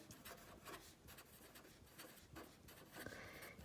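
A pen scratches across paper while drawing a graph of a continuous function, producing faint, continuous rubbing strokes with short pauses and no talking.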